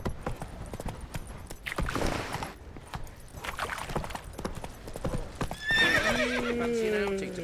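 Roach, Geralt's horse in The Witcher 3, trots with rhythmic clip-clopping hooves, then lets out a long loud neigh near the end, heard with game voices talking.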